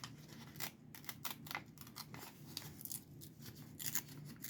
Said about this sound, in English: I think I'm going to tear this out